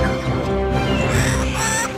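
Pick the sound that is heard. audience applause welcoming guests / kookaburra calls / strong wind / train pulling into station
kookaburra calls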